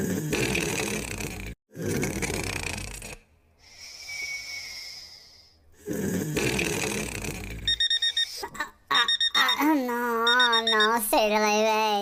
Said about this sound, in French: Non, c'est le réveil.